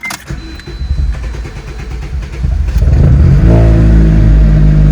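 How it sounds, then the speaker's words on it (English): A 2006–2011 Honda Civic engine cranks and catches, building into a loud, steady, close idle rumble after a few seconds of lighter mechanical noise. "let me crank the car up"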